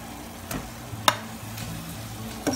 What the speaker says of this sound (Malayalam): തക്കാളി ഒന്ന് വഴറ്റി വരും